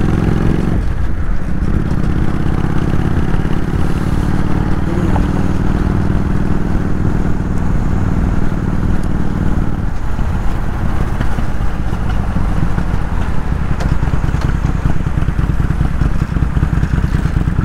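Motorcycle cruising through the streets of Bremen, its engine droning steadily and loud throughout, with rumbling low end, brief shifts in pitch as it slows and pulls away, and wind and road noise layered over it.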